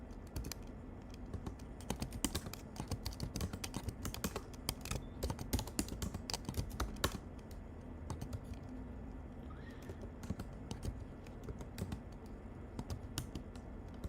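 Typing on a computer keyboard: quick bursts of close, crisp key clicks with short pauses, steady at a modest level throughout.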